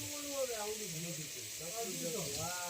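Chopped onion hits hot oil after garlic in an outdoor farm cooking pot, giving a steady soft sizzle and hiss under a voice talking throughout.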